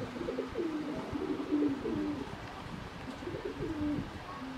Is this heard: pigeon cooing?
yes